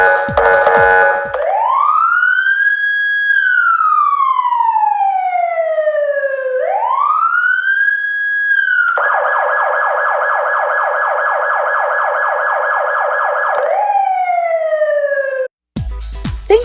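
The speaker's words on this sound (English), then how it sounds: "Many emergency vehicles will use both light and sound." Emergency vehicle siren blares loud and close, two slow rising-and-falling wails followed by a fast warbling yelp, then another brief wail before cutting off.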